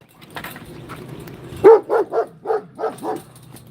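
A dog barks outside behind a fence, a run of six sharp barks in fairly steady rhythm at moderate distance, after a stretch of quieter low rumbling background.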